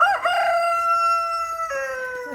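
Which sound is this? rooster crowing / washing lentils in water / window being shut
rooster crowing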